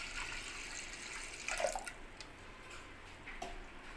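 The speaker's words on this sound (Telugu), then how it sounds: "ఇప్పుడు దాంట్లో సరిపోయేంత నీళ్లు పోస్తున్నానండి" Water poured from a vessel into a pot or pressure cooker while cooking chinta chiguru pappu (tamarind-leaf dal), a soft, close, steady trickle with small splashy surges and no talk.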